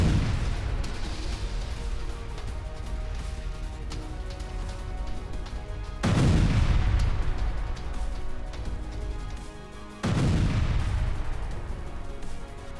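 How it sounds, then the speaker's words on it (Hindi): Explosions of Russian mines set off by an MK19 grenade launcher attack: heavy booming blasts with strong low rumble, a sustained loud barrage with fresh bursts at about 6 and 10 seconds, no talk. "इस हमले से रशियन माइंस में विस्फोट की तस्वीर देखिए।"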